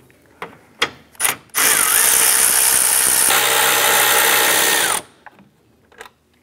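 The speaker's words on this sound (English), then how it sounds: "We're gonna go ahead and remove our four 10 millimeter bolts holding both fans, the cooling fan and the two on this side here for our radiator fan." A power ratchet spins out the 10 millimeter bolts holding the radiator and cooling fans on a 2004-2008 Acura TL: a few short close clicks, then a loud, steady mechanical whir of several seconds, then more scattered clicks.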